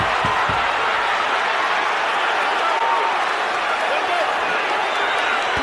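Arena crowd at a Ward vs Kovalev boxing rematch cheers and roars during a late round, a loud, continuous wall of noise with scattered claps and shouts.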